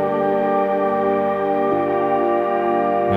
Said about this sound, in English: when you sit down at that Jupiter 8 and coming up with a pad sound like this